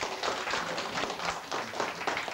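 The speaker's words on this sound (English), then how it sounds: "Will you give Ugg a big round of applause for him?" A crowd claps steadily in a moderate, continuous round of applause.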